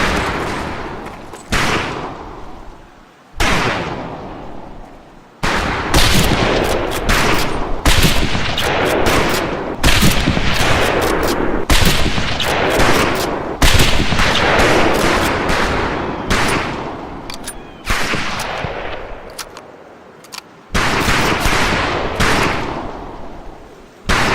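Rifle fire at long-range targets in Medal of Honor Pacific Assault, loud repeated shots and bursts with booming echoes, nearly continuous over a dense battlefield din.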